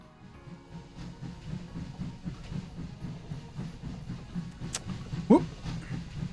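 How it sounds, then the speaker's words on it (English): Train in the VR game Hot Dogs, Horseshoes & Hand Grenades running steadily with a low rumbling clatter throughout, plus a brief sharp squeal near the end. "And we're gonna catch the train."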